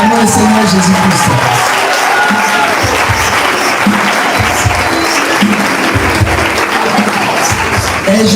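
Applause from a church congregation, dense and steady throughout, with voices and some cheering mixed into the clapping.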